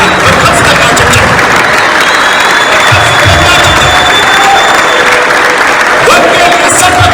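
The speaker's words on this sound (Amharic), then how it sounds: "በታላቅ የማያቋርጥ ጭብጨባ ክብራችንን ለወንጌል አገልጋይ የሚገባውን ሽኝት እናደርጋለን" Loud, sustained applause from a large crowd at a memorial send-off for a gospel minister, dense and continuous throughout, with voices faintly mixed into the clapping.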